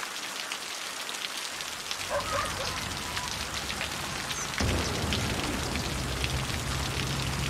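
Steady rain falls across a city in the game Cities: Skylines, a dense hiss of drops that swells after the opening and thickens further partway through, with no voices over it.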